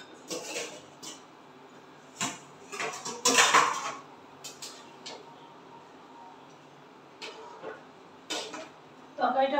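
Fried vadas are dropped into curry and the pan is covered, giving close clatters and clinks of a utensil and lid against the pan in scattered bursts, with quiet gaps between them.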